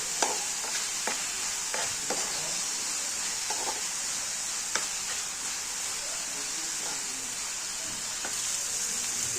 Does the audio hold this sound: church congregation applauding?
no